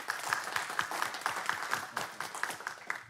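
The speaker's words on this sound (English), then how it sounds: "let's give him a round of applause for coming out and supporting him" A quiet round of applause at a city council meeting honoring a child, with a handful of people clapping in a fairly even rhythm, the individual claps distinct and moderately distant.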